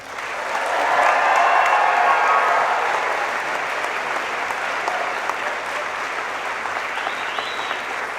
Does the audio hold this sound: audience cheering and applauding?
yes